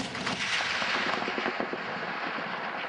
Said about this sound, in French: Allez, encore, tire un coup là.